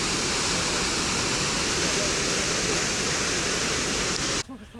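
Night waterfalls lit up in Antalya, Turkey, produce a steady, loud, broadband roar of falling water that holds constant for several seconds and then drops off abruptly at the end.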